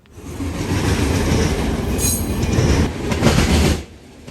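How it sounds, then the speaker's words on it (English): Union Pacific freight train with remote-controlled AC45CCTE locomotives rolling past close by, a loud continuous rumble of wheels and cars with clatter and faint wheel squeal, no voices. "At the end of the train is another Union Pacific AC-45 CCTE under remote control from the head-end locomotive"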